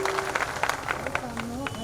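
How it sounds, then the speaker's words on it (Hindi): Crowd applause at an outdoor political rally in Prayagraj, a dense patter of clapping with a few sharper claps standing out, steady and moderately loud for a couple of seconds. "जोरदार ताली बजा करके स्वागत करिए"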